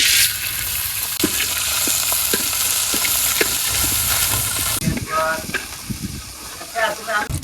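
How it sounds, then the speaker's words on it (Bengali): Prawns frying in hot oil give a loud, continuous sizzling hiss with scattered stirring clinks, and a voice speaks over the sizzle in the second half. "তেল দিয়ে দিলাম এবার চিংড়ি মাছ টাইলে নেব চিংড়ি মাছ দিয়ে দিলাম"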